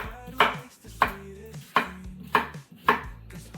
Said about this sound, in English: Sometimes cucumber can be bitter, so I like to pick off the ends, about 1 inch from each end.